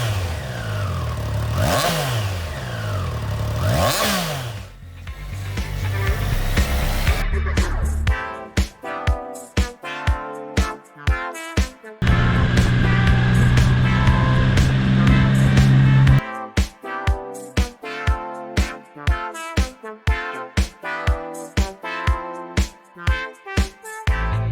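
A Triumph Tiger 660 Sport with a 660cc three-cylinder engine revs and accelerates on a ride, rising engine pitch followed by a long run of regular rhythmic pulses, loud and close with no talk.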